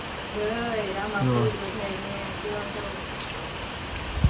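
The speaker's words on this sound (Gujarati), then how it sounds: "આવી રીતના ઝરમર ઝરમર વરસાદ ચાલુ છે" Steady soft hiss of light drizzle falling outdoors in a village, with faint voices murmuring in the background.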